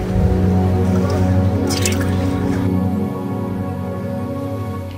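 Water drips and trickles steadily at the source of the Kali river in the Pithoragarh mountains of Uttarakhand, a close, continuous liquid sound with a low background hum.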